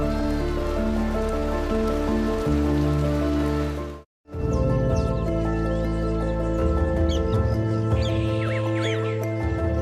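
Rain falling steadily in the savanna jungle of Uganda, a dense, loud wash of drops on surfaces. It breaks off briefly around the midpoint, then resumes, with faint bird calls mixed in.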